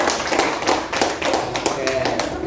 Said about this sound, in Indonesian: tepuk tangan untuk nomor 1